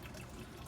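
Water pumped through an aquaponics tote trickles and splashes steadily, a short, even wash of liquid noise with no talking.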